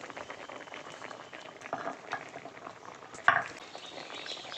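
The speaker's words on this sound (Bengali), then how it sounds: "এদিকে মাছের ডিমটাও সেদ্ধ হয়ে গেছে" Fish roe boiling in a pot, a quiet continuous bubbling hiss with scattered pops and one louder clink of a utensil, close and steady with no voices.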